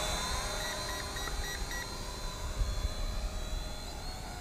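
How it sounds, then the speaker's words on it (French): An Eachine E520S GPS drone hums steadily in flight, a continuous whining motor tone over broadband rushing noise, at moderate loudness with no voices. "On va voir ce que le drone va faire."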